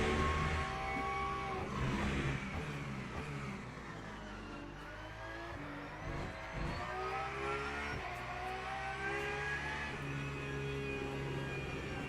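A Porsche race car's engine roars steadily in the Le Mans Ultimate racing game, a continuous loud drone with rising and falling revs as it shifts through gears, with no talk.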